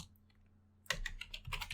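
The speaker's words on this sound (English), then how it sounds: "So we will just type it once again." Quick bursts of keystrokes on a computer keyboard while entering code, close and fairly quiet, starting after a near-silent pause and continuing in uneven clusters of taps.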